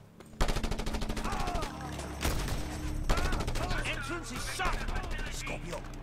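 Rapid gunfire in the Just Cause 2 video game, dense repeated bursts of automatic shots running nearly throughout at steady volume, layered with game effects and a voice speaking over the action.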